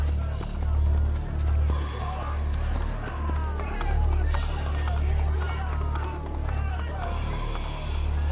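A horse gallops in the Assassin's Creed Brotherhood video game, a driving rhythmic run of hooves over a loud, low, pulsing rumble and busy crowd-like game ambience.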